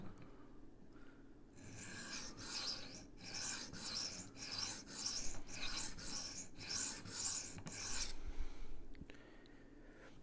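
A Rough Ryder Half Hawk knife is stroked across a sharpening stone with a 3D printed angle guide, a run of rhythmic, close raspy scrapes in quick succession, faint overall with no talking.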